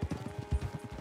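Horse hooves clip-clop in a steady trotting rhythm in Red Dead Redemption 2, quick repeated thuds close by and fairly quiet over a brief stretch.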